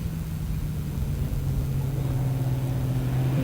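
An Ultra4 off-road race vehicle passing the start/finish area at round 1 of the Ultra4 North series, the Big Sky 200, gives a steady low engine drone with a sustained hum, moderately loud and continuous throughout, with no talk.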